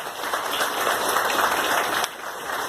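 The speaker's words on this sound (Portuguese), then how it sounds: "Eu gostaria que vocês aplaudissem o Senhor pela vida desse homem" A church congregation applauds together in a steady, full wash of clapping that fills the room, loud and continuous with a brief dip near the end.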